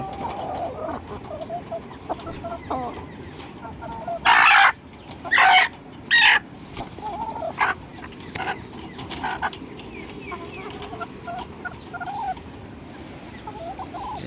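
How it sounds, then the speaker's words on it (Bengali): Backyard desi chickens squabble as a red hen starts a fight, with several loud, sharp squawking bursts over steady clucking and background croaking. "আর এই যে কালীকে দেখে একদম লালটায় মারামারির প্রসেস শুরু করে দিয়েছে"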